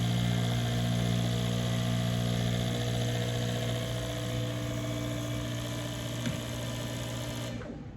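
Four fuel injectors fire together at 100 PSI and 50% duty cycle on a flow bench, making a rapid, steady buzzing tick with a strong tonal hum. It is close and continuous, then fades out at the very end.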